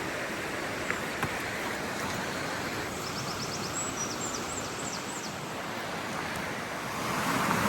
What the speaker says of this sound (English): Winter water, very rough.